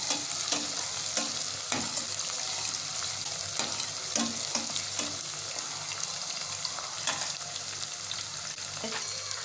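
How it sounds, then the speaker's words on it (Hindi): Onions fry in a pan for chicken liver kaleji, a steady close sizzle broken by repeated scraping strokes of a spoon stirring, with no talking. "ये देखें प्याज ब्राउन होती जा रही है"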